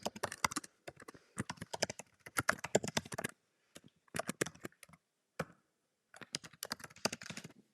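Rapid clicking of keys on a computer keyboard in quick bursts with brief pauses, soft and close, no voices.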